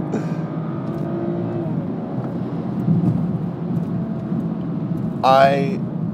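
A BMW E90 335i xDrive, all-wheel drive, accelerating hard on a slight uphill and losing traction: a sustained engine roar rising in pitch, with a brief sharp sweep near the end, and a voice speaking over it.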